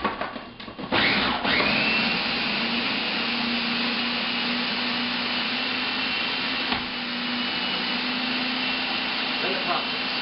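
A food processor whirs through peeled apples and brown sugar, starting with a few short bursts and then settling into a loud, steady motor drone with a constant pitch that runs to the end.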